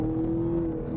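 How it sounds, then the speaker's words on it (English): A 2019 Camaro SS engine drones with a steady, loud exhaust note, a brief close burst of revving from the V8. "Oh man, the exhaust sounds so good."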